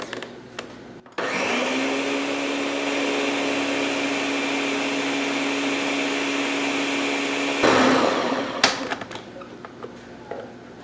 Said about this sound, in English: I'm gonna blend these up